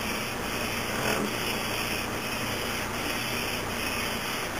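A Q6600 CPU is lapped on damp sandpaper, giving a steady, close, raspy scraping that rises and falls with each back-and-forth stroke, even and unbroken with no talk.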